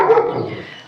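A single short dog bark, close and loud, fading quickly.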